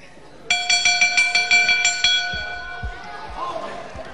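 A loud ringside bell clangs rapidly about a dozen times to end a round at a televised professional wrestling bout, then fades beneath crowd noise and thuds.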